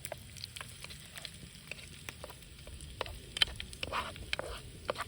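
Bacon bits frying in a non-stick pan on a Mini Trangia 28 camping stove, a soft, steady sizzle with small crackles and spatula scrapes, fairly quiet.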